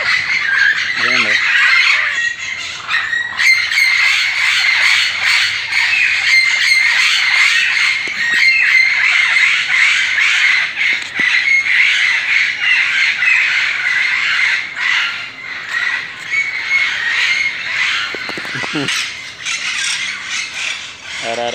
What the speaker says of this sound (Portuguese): Arara Canidé.